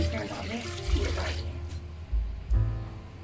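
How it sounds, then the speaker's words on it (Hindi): Three glasses of water splash and pour steadily into a pot of mutton karahi for a couple of seconds, with kitchen clatter and a low rumble beneath. "3 गिलास पानी ऐड हो रहा है।"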